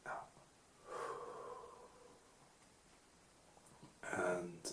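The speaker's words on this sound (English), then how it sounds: "we're going to take 3 deep breaths. So, we're going to breathe in" Quiet, soft breaths in and out during a calm guided breathing exercise, a gentle airy inhale near the start and a sharper, louder breath near the end, close to the microphone.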